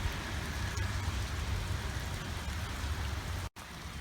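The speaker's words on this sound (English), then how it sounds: "when it's not raining so bad" Heavy rain pours steadily around a travel trailer, a dense, constant hiss of drops on surfaces with a low rumble underneath, loud and unbroken apart from one brief dropout near the end.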